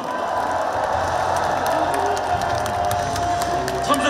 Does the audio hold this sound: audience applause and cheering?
yes